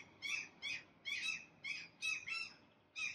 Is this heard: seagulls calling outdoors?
yes